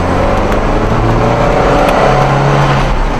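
A 1973 Alfa Romeo Giulia Super engine pulls steadily through the gears, a loud, continuous near-field drone with rising tones and no talk.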